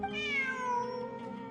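A cat meows in Genshin Impact, one drawn-out, clear call with a gliding pitch, close and alone.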